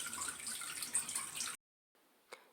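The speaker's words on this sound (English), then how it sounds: "So I just turn this into drain. Water comes out of there." Water drains from the tub of a small apartment washing machine in a steady close gush for about a second and a half, then cuts off. A single faint drip follows after the silence.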